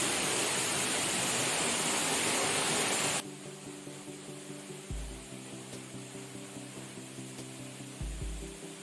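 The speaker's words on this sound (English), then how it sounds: "So right now we are at the backside of the waterfall." A waterfall, heard from behind the falling water near a cave entrance, roars as a loud, dense rush of white noise for about three seconds before the sound cuts away to a much quieter scene.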